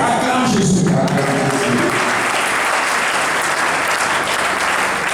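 A church congregation applauding, dense sustained clapping filling the whole stretch, loud and close, with a brief voice at the start under the applause.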